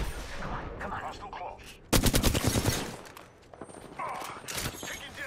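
Gunfire in the video game Apex Legends during a ranked match, with an abrupt burst of rapid automatic shots in the middle, preceded and followed by scattered shots and mechanical clatter.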